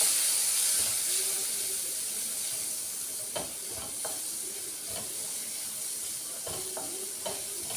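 Turkey berries fry in a pan with a steady, close sizzle and hiss, punctuated by occasional stirring scrapes and clicks.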